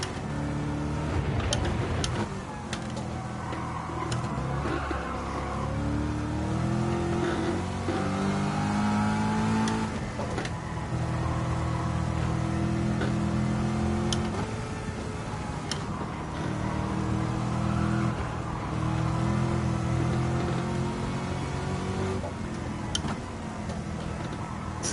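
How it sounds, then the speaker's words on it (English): A Mazda MX-5 tuned toward 500 horsepower revs and accelerates in Gran Turismo 7, its engine rising and falling through gear changes in a loud, continuous drone with occasional ticking clicks. "Little MX-5, 500 horsepower would be a lot."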